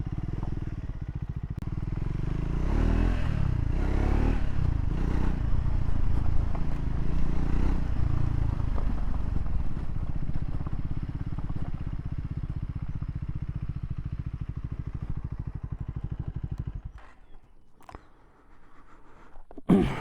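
A 2025 Triumph Scrambler 400X runs with a steady, low rumbling idle close by for most of the stretch, then cuts off near the end, leaving brief clicks and clatter.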